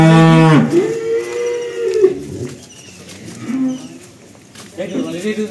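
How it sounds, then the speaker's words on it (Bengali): A pregnant cow, about two months from calving, gives a loud, long moo up close, the call sliding down in pitch and trailing into softer lowing, followed by quieter grunting and another short vocal rise at the end. "দেখছেন গরু,"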